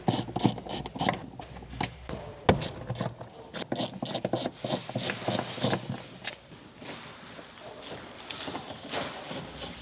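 A hand ratchet clicks rapidly and steadily up close while backing out 10 mm bolts inside the front trunk of a Tesla Model 3, with short pauses between bursts of pawl ticks and no talking.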